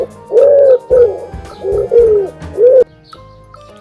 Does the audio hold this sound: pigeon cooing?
yes